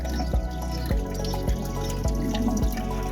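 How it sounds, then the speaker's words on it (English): The last of the water drains through a pipe at a lake, with steady trickling and gurgling punctuated by regular drips about every half second, near and fairly loud. "it's just the last bit of water is draining out the bottom through that pipe there"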